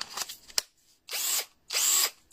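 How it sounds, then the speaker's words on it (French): A cordless drill on an upgraded 12V battery pack built from Sony VTC5 cells whirs in two strong, steady bursts of roughly half a second each, close and loud, with a few clicks and handling knocks before the first run. "On va l'essayer sur la perceuse."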